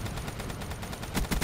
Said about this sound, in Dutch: mijn teammates knallen iedereen af